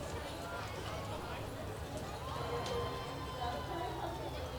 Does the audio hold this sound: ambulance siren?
no